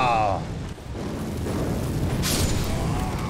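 An Elden Ring fireball spell bursts with a loud boom that rolls into a sustained fiery roar, with a second crackling flare near the end and talking partly over it.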